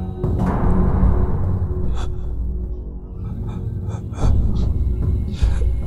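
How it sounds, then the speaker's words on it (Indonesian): Heavy, rasping breaths come in slow bursts, close and loud, with deep rumbling noise underneath. "aku mendengar seperti suara nafas yang berat yang terdengar jelas dari arah atas atap kamarku."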